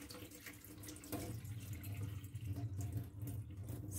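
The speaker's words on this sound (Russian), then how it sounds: "Сливаем воду" Water pours and splashes steadily into a sink as rinse water is drained off soaked wheat groats, a close, running gush that grows fuller after the first second, with no talking.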